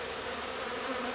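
Honey bees buzz at an opened hive after a honey harvest, a dense continuous drone close and loud with no other sounds.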